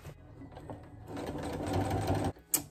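A sewing machine runs close by in a quick burst of stitching, its rapid mechanical whirring lasting about two seconds before stopping.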